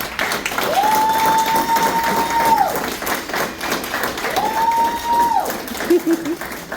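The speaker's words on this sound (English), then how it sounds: "Can we give the family a round of applause?" An audience at a military promotion ceremony applauds the officer's family with sustained clapping and a few thuds, while two long steady tones sound over it.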